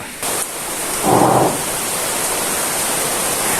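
Steady, loud broadband hiss of heavy rain on the Tiwi, Albay coastal road, with a brief swelling rumble of thunder partway through; no one speaks.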